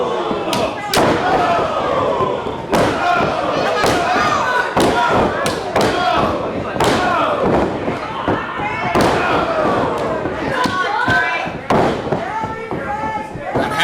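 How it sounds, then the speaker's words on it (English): Repeated hard kendo stick strikes land during a wrestling street fight, a rapid series of loud thuds and slams over crowd noise, with a commentator talking throughout. "Half a dozen shots there with the kendo stick."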